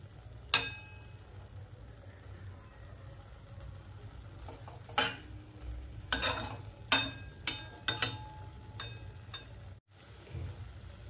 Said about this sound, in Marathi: अजून थोडा वेळ आपण परतून घेऊया.